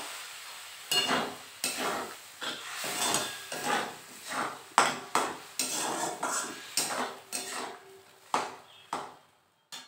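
Fried potatoes are stirred in a pan with poppy seed and chilli paste, a spoon scraping and knocking against the metal in a steady series of distinct strokes, close and fairly quiet over a soft background.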